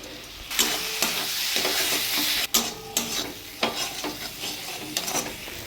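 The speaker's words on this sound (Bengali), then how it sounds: "আমি এবারে দিয়ে দেবো জিরের গুঁড়ো, ধনের গুঁড়ো, কাশ্মীরি লঙ্কার গুঁড়ো, হলুদ গুঁড়ো, ভিজিয়ে রাখা গোবিন্দভোগ চাল" Cumin, coriander, Kashmiri chilli and turmeric powders with soaked Gobindobhog rice go into tomatoes frying in a pan, giving a loud steady sizzle broken by repeated spoon scrapes and stirring clatter, close up with no voices.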